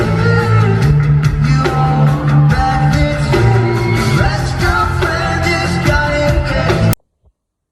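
Live drum solo at a concert, heard from within the crowd: loud, dense full-band music with steady thumping hits and sustained synth tones that cuts off abruptly after about seven seconds.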